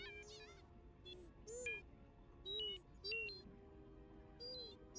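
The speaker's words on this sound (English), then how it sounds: "Hesitant beeps." Droid T3 from the Star Wars KOTOR II video game gives hesitant electronic beeps and warbling chirps in short separate bursts over a low game ambience, with no talking.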